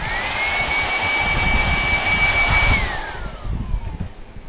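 A handheld leaf blower roars loudly and close while blowing bees off a beehive frame during honey harvesting, a steady whining blast that cuts off and spins down near the end, leaving faint outdoor noise.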